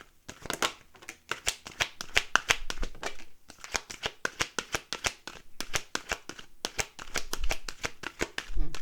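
A deck of tarot-style cards is shuffled for a reading: rapid, close, crisp riffling and slapping bursts repeat in quick succession with brief pauses, with no voice over them.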